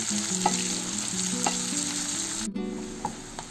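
Garlic cloves and curry leaves frying in a pan with raw papaya, giving a steady close crackling sizzle under a continuous background hum, with a few soft stirring clicks.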